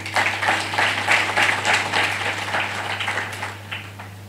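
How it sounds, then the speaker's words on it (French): An audience at an environmental science institute ceremony in Senegal claps for the organising committee, a moderate burst of applause over a steady electrical hum that tapers off toward the end. "je vous demande d'applaudir ce comité."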